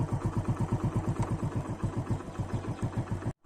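The Nellai Express pulls away from Nellai station's third platform, its engine throbbing in a fast, even pulse of low beats that ends in a sudden brief cutoff.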